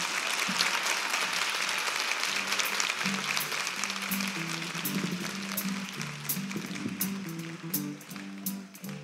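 Studio audience on a 1983 Spanish-language TV festival show applauding warmly to welcome a singer, sustained clapping with band music playing softly underneath.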